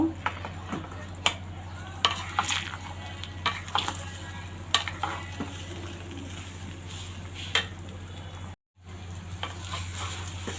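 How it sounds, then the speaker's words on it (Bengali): Raw green mango pieces fry in mustard oil with five-spice for a sweet-sour pickle, a steady close sizzle broken by frequent spoon-against-pan stirring clicks and one brief dropout near the end. "এখন আমগুলোকে একটু ভেজে নিব"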